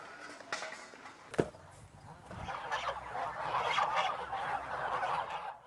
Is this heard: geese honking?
yes